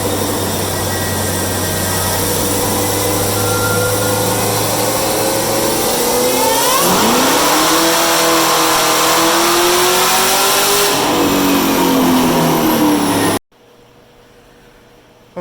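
Tree-L1 car fitted with a Magnuson 2650 supercharger on a dyno in sixth gear, a loud sustained full-throttle pull with pitch climbing steadily for about thirteen seconds, then cutting abruptly to near silence.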